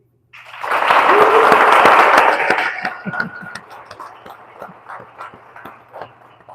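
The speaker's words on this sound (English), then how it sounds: "So we'll vote by applause" An audience at a southeast beekeeping club meeting votes by applause: a loud burst of clapping swells for about two seconds, then thins into scattered, fading claps.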